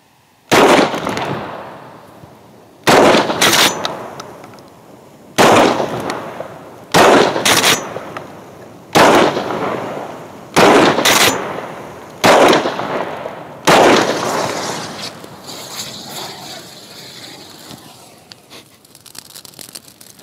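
A DP-12 double-barrel pump shotgun fires repeatedly, loud and close, in about eight sharp blasts, some as quick doubles, separated by pauses of a second or two, each ringing out briefly before the next.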